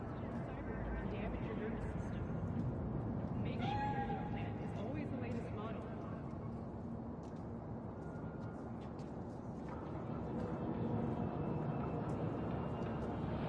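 A cat meows in the streets of Night City in the video game Cyberpunk, a short wavering cry partly masked by a dense, steady wash of city ambience and game music.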